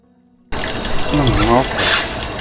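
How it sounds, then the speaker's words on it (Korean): Water drains from a Hyundai Veracruz in a repair shop. A steady splashing gush starts abruptly and keeps running, and someone speaks over it. "일단 물 다 빼고요."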